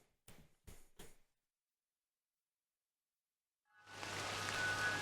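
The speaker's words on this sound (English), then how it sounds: "Oh, it's raining." Steady rain falls in the Crow Country video game, starting about a second after a few short thuds and then holding loud and continuous to the end.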